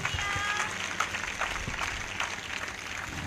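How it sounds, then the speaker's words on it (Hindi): A church congregation clapping in praise at a live ministry service, steady crowded applause with a murmur of voices and room noise underneath, fairly loud and continuous. "ताली बजाकर महिमा करे परमेश्वर को"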